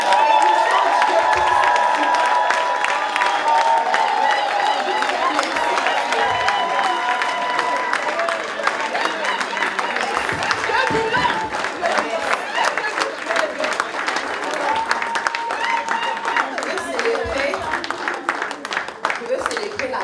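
A church congregation at a gathering in Montréal applauds and cheers for a continuous stretch, dense clapping with scattered shouts, loud and close, easing slightly toward the end.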